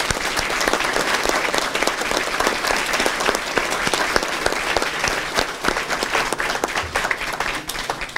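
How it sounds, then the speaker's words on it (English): Sustained audience applause fills a school board meeting room in honor of student athletes and coaches, dense steady clapping from many hands continuing for the full stretch without a break. "So I'd just like to give all 4 of these a round of applause"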